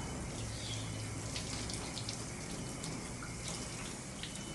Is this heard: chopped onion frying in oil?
no